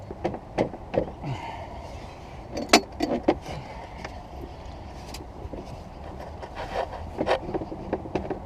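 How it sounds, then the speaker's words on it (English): A wrench working a stuck bolt on the seized engine of an abandoned 1968 Buick Skylark, giving sharp metallic clicks, scrapes and ratchety knocks in irregular bursts, close and alone. "loosening the bolt"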